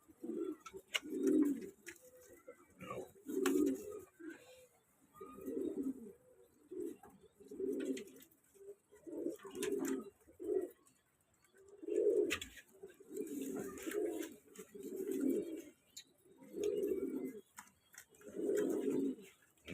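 Pigeons coo nearby in a steady series of soft, throaty calls while pecking up fallen corn from the floor, with faint clicks and taps scattered between them.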